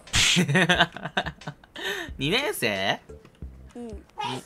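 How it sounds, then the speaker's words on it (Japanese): One short, sharp sneeze right at the start, then voices talk over a Fortnite voice chat. "誰くしゃみしたの？"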